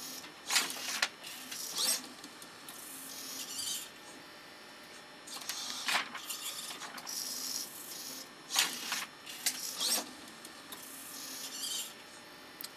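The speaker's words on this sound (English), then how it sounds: "A new armature comes down against the page." An early page-turning robot, with a putty-tipped armature and a squat switch, makes faint intermittent mechanical whirring and clicking bursts as the arm moves down against a page. The bursts are separated by quiet gaps, and there is no speech.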